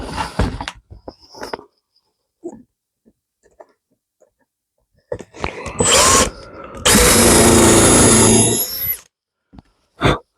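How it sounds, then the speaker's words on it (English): A power drill bores a mounting hole in the top of a scrap-wood birdhouse backboard: a few faint handling knocks, then a loud, steady whine of about two seconds, ending with a single short thud. "One last thing I need to do is just drill a mounting hole in the top of this backboard."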